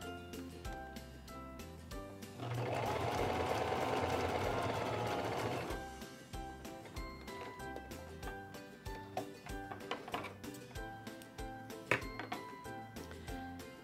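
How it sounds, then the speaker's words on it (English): Singer 2273 Esteem II sewing machine stitching a long, wide zigzag, a loud steady motor whir of about three seconds, followed by rapid mechanical tapping and clinking with no talk. "Let's try sewing that out."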